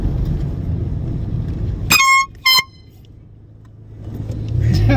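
A cheap dollar-store air horn gives two short, loud blasts close by, separated by a brief gap, over outdoor traffic and engine rumble.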